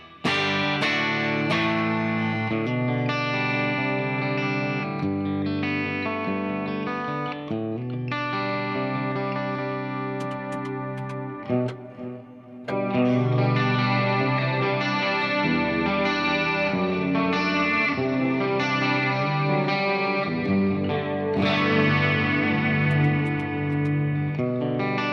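An electric guitar runs through Fractal ambient effects, its chords thick with chorus, echo and a light grit. The playing is continuous and fairly loud, with one brief dip near the middle, and no one speaks.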